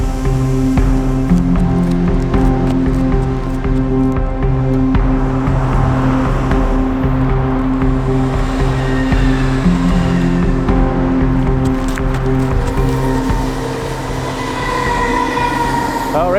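A train bound for Balloch rumbles past on a Scottish railway line near Glasgow, a loud, steady roar with a sustained low hum and metallic rail tones throughout, close by and continuous with no speech.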